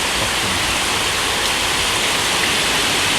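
Heavy rain pours down in a dense, steady roar of hiss across the whole clip, close and loud with no pauses or voices.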